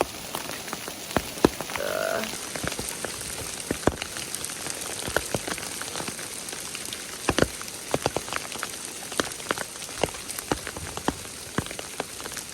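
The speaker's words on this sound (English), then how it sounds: "I had to stop again because the hail is painful. It's like garbanzo bean size." Garbanzo-bean-sized hail pelts down on a New Mexico stretch of the Continental Divide Trail, a dense steady patter with sharper individual impacts cracking through close by, no voices.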